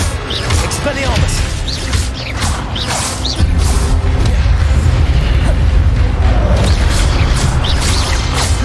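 Spell-casting effects from a Hogwarts video game as the Expelliarmus disarming charm fires: bursts, pops and a booming hit over busy, steady game ambience and music, running continuously and loudly.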